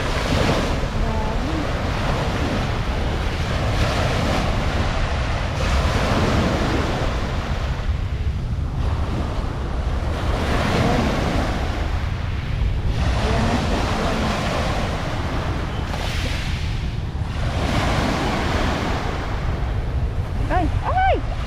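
Ocean waves wash onto the shore at Dolomite Beach on Manila Bay, a steady broadband surf roar with swelling surges every few seconds, mixed with wind buffeting the microphone.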